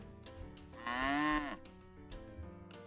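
A single drawn-out cow moo from the farming video game Pumpkin Days, fairly close and clear over quiet game ambience with soft background music tones.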